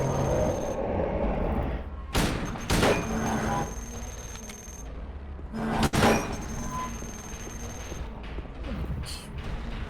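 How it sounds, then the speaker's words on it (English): Gunshots ring out in the 2001 survival horror game Silent Hill 2, with a few sharp, loud bursts separated by pauses over a murky ambient backdrop. "Lots of bullets."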